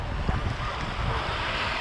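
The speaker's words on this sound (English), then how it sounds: "It's dog wee." A dog urinates outdoors, a steady splashing water stream with broadband wind-like rush, continuous and fairly close for under two seconds, no talking.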